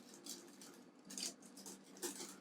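A whisk beating lemon batter in a bowl, giving quiet, repeated scraping and tapping strokes in uneven bursts against the bowl, fairly faint and close.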